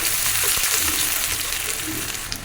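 Onion and garlic fry in hot oil for a khichuri tempering, a dense, loud, continuous sizzle and crackle filling the whole moment, with faint clinks and no speech.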